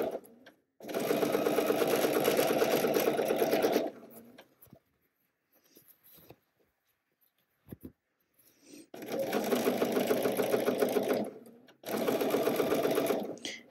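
A sewing machine stitches the seams of a pair of Spencer pants in three steady runs, with short quiet pauses between them. The machine hums close and clear with no talking.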